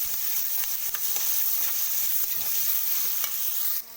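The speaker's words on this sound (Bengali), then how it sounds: "এগুলোকে আমি এরপর লাল লাল করে ভেজে নেব" Steady hissing sizzle of onion, ginger, garlic and chopped green chilies frying in hot oil, with occasional stirring scrapes, continuous and close, then dropping off at the end.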